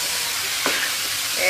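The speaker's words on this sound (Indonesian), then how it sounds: "Kita masukkan ati dan ampela ayamnya, guys. Kita aduk." Chicken liver and gizzard stirred in a hot pan, a continuous loud sizzle of frying with a brief scrape of the spatula partway through.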